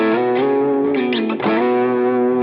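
Double stops played on an electric guitar through effects with slight distortion: sustained paired notes ring out loud and close, with a brief shift partway through, and no voices.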